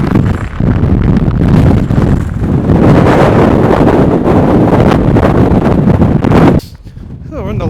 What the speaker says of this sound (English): The current wind speed was 67 miles an hour.